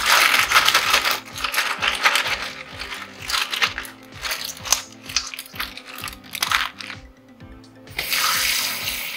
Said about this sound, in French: Je vais laver avec de l'eau chaude, de préférence.